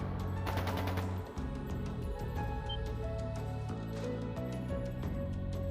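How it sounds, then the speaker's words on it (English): Rapid bursts of automatic gunfire with a game-like, processed quality, loud and close over a steady electronic background tone. "That sounded like gunfire."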